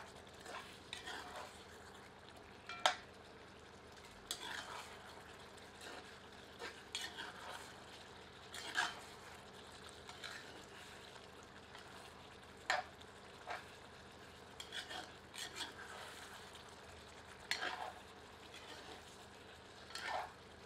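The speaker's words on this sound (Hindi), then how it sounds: "अब इसमें 2 टेबलस्पून अदरक लहसुन का पेस्ट ऐड करते हैं। मिलाकर 3 से 4 मिनट हाई हीट पर कुक करते हैं।" Ginger garlic paste cooks on high heat in a cast iron kadhai, with a soft steady sizzle broken by scattered clinks and scrapes of a stirring spoon against the pan, close and with no talking.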